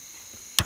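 A single sharp click of the Jetboil Flash camping stove's push-button igniter, brief and close, over faint steady background hiss.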